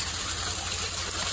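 Continuous rushing gush of water pouring into a pool from an underground water pump, loud and close, with a steady hiss and no voices.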